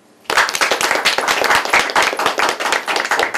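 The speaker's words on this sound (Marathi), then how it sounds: "टाळ्या." Audience applause at a vaastu talk event in Thane West, a dense burst of many hands clapping that starts sharply and carries on loud and steady, with no talk over it.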